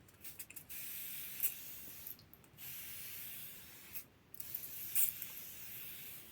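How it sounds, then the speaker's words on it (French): Hair spray is misted onto a child's hair in several short, soft hissing bursts, close by and fairly quiet, with pauses between them and no talking. "Je vais mettre un petit peu de spray sur ses cheveux"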